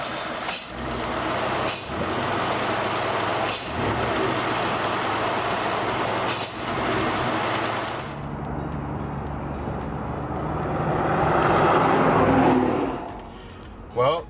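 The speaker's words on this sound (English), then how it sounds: "Now you're ready for a test drive." A Ford F-150 pickup with a newly fitted throttle body spacer is driven on a test drive. Its engine and road noise hold steady throughout, with a louder swell near the end.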